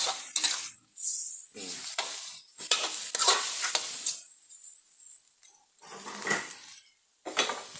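Shrimp and squid stir-frying in a pan for seafood fried rice, with bursts of sizzling and repeated scraping strokes of a spatula against the pan, close and fairly loud, no voices.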